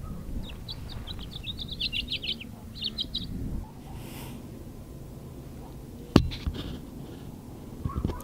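Small birds, including a little red bird and a woodpecker, chirp in quick bright bursts outdoors during the first few seconds, then fall quiet, followed by a sharp close knock and faint rustling.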